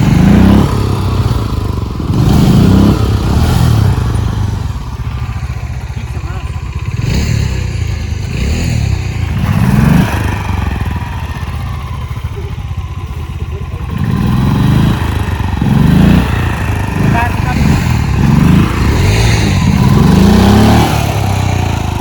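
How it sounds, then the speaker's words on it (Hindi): A motorcycle engine revs repeatedly in snowy hills, loud close bursts of throttle rising and falling in an uneven rhythm over a steady running drone, as the bike is pushed to drift on snow. "बाइक लेके आएंगे हम इधर ड्रिफ्ट मारने के लिए अब।"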